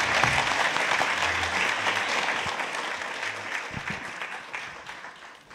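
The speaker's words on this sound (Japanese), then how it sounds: "パネリストの方々にあの再度拍手の方をお願いいたします。" Seminar audience applauding the panelists after a panel discussion on rebuilding tourism, steady close clapping that holds strong and then slowly tapers toward the end, with no talking.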